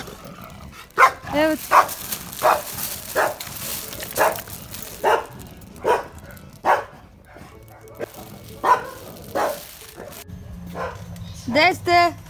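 Small dogs bark in repeated sharp yips at close range, indoors at a family home, some barks rising to whimpering cries, while someone talks between them.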